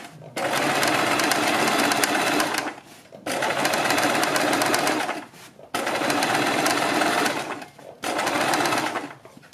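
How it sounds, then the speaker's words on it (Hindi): A sewing machine stitches around a neckline along buckram in four long, steady whirring runs with short pauses between them, loud and close, with no talking. "बीच में सिलाई लगाने के बाद हम बुकरम के बिल्कुल बराबर में पूरे गले के ऊपर सिलाई लगाएंगे"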